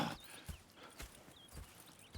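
Horses in the Red Dead Redemption 2 game move with soft, uneven hoof clops and a faint snort, quiet and fairly close, with no talk.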